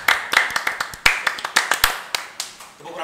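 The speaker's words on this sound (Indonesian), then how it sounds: "Tepuk pramuka dong" Rhythmic group hand clapping in an Indonesian scout-style pattern, a quick run of sharp claps with a few accented beats, close and fairly loud, without talk.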